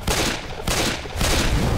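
Rapid pistol gunfire from the Left 4 Dead 2 video game, with dense bursts of shots in quick succession filling the whole moment, loud and close with no talk over it.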